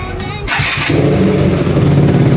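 A KTM Duke motorcycle engine cranks and fires up after a battery replacement, a brief starter whir followed by a steady, close idle rumble that carries loudly to the end.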